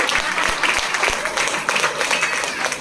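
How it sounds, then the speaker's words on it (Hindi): A seated audience gives a round of applause for someone speaker at an event. The clapping is full and continuous, with a few sharper individual claps standing out, and lasts just under three seconds. "एक बार मैडम के लिए जोरदार ताली होनी चाहिए।"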